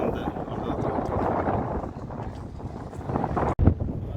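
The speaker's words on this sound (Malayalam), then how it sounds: "നല്ല കാറ്റാണ്. നല്ല കാറ്റുണ്ട്." Strong wind on the Qetaifan glass bridge in Lusail, Qatar, buffeting the microphone with a loud, continuous roar and gusts, briefly dropping out near the end before surging again.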